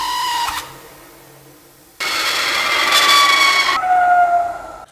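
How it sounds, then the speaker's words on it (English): A vacuum chamber releasing air, used as a sound effect: a loud, steady hissing rush with a bright whistling tone that starts abruptly and holds for a couple of seconds. "It says it's a vacuum chamber air release."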